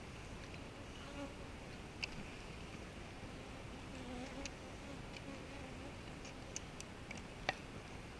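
Honey bees buzz softly around an open hive during an inspection, a faint steady drone with occasional brief ticks and small bumps, and no talk.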